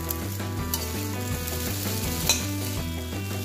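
Noodles, vegetables and egg stir-frying in a hot pan with shrimp and pineapple, a loud continuous sizzle close up, with background music playing throughout.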